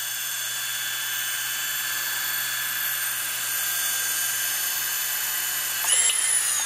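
Drone motors on a Pixhawk-controlled multirotor give a steady high-pitched electric whine that holds level and then rises sharply as the throttle climbs near the end, close and alone.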